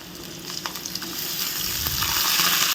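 Sliced bitter gourd tipped into hot oil crackles into a steady, close sizzle that builds over a couple of seconds, with a few faint scrapes of stirring on top.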